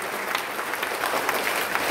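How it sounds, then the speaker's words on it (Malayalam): A congregation gives a short burst of steady applause in praise of the Lord during a Malayalam sermon, dense and even, with no talk over it. "നല്ലൊരു കൈയടി കൊടുത്ത് കർത്താവിനെ മഹത്വപ്പെടുത്തൂ"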